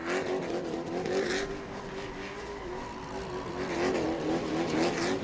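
A race car at a New Smyrna short-track event spins celebratory donuts, its engine droning steadily with rising revs and bursts of tire squeal throughout, loud and close with no talk.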